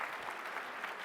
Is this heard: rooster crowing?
no